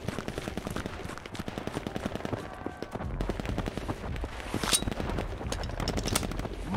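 Artillery and gunfire in a war video game, dense rapid machine-gun bursts and rattling shots crackling nonstop over a low rumble, with heavier blasts booming in the second half.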